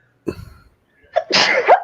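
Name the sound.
sneeze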